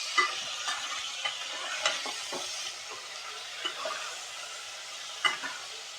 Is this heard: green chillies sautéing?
yes